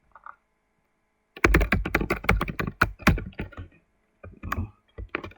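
Rapid keystrokes on a computer keyboard while text is entered into a birthday design, a burst of steady clicking with short pauses, close and clear, no talking.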